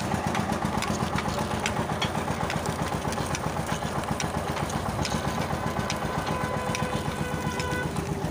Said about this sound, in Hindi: ट्रैक्टर की मदद से ये चला हुआ है।